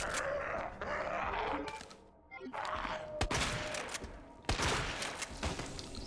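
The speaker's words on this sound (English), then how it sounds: "I love long-range shotguns." Shotgun blasts boom out in Resident Evil 2, several sharp, loud reports with sustained gunfire-like noise between them and a brief lull in the middle, no talking.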